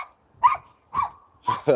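Several dogs, including small ones, bark in short separate bursts, four yaps spread over under two seconds, fairly close and clear with quiet gaps between them.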